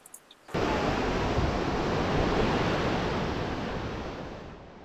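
Sea waves washing steadily onto the flat beach at Rishikonda, Vizag, a continuous loud roar of surf that begins abruptly after a brief pause and holds without break.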